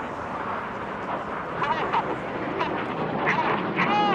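RAF Red Arrows jets at the Goodwood Festival of Speed sweep past in a left-hand turn in line astern, a steady broad roar of jet noise with voices faintly audible alongside.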